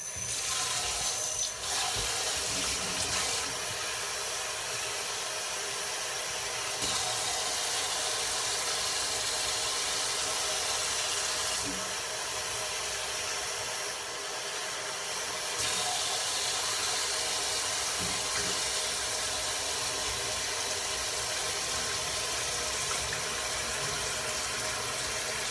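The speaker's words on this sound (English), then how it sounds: "Here, when it gets to be too much water, I'm just holding the shrimp down and rinsing it." Tap water pours steadily into a kitchen sink as shrimp are rinsed under it, a close, continuous rushing hiss that lasts throughout with slight shifts in flow and no speech.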